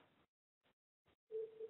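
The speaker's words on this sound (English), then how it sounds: "so you probably hear it through my mic. We've got dial tone." A steady, unbroken dial tone hums over a thin line on a Cisco Unified Communications Manager IP phone, preceded by a few short bursts of line noise.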